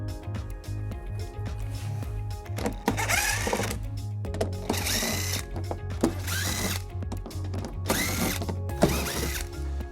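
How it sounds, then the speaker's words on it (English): A power tool whirs in short bursts while driving out screws from the trim of a 2015 Toyota Sienna during a trailer hitch installation, the whirs separated by brief pauses and a low steady hum underneath. "we're gonna remove all of these screws, all 5 of them on the edge"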